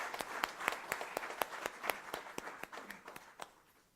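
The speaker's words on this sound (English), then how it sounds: "I request you to join me in that applause" Sparse clapping from a lecture audience, a small group of distinct, rhythmic hand claps that fade out after about three and a half seconds.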